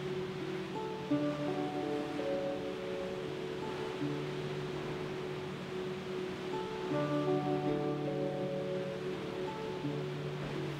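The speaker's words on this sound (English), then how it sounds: "The waves continue to change the landscape as they have for many millions of years." Ocean waves churn steadily at Devil's Churn on the Oregon coast, a continuous low rushing surge with no distinct breaks, heard alone at moderate distance.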